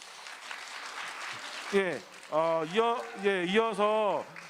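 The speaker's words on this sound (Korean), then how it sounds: "다시 한번 큰 박수 부탁드리겠습니다" Audience applause at a conference on the independent lives of people with severe developmental disabilities after leaving institutions; broadband clapping fills the first two seconds, then a loud voice speaks over fading applause.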